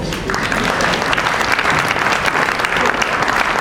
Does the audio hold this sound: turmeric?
no